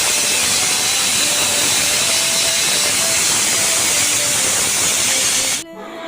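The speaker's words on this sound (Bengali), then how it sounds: "এখন প্রেসার কুকারের ঢাকনাটা দিয়ে সিটি দিয়ে নেব পরিমাণ মতো।" A pressure cooker of beef on the stove lets out a loud, continuous steam whistle and hiss that holds steady for over five seconds, then cuts off abruptly, leaving a quiet rattle.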